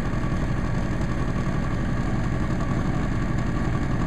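A distributor test machine runs steadily while bench-testing the distributor from a 1950s Mercedes-Benz 220, a constant mechanical hum with a faint high whine, close and alone for about four seconds.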